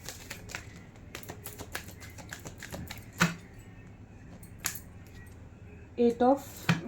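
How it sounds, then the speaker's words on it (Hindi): Tarot cards being shuffled, quick papery flicks and taps in irregular bursts, fairly faint and close, with a brief voice near the end. "This is my last shuffle."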